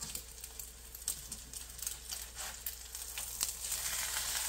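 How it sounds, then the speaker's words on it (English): Bean sprout and shrimp omelette batter fries in a pan with a continuous soft sizzle, scattered small crackles and pops, and a low steady hum underneath. "You just have to cook the batter"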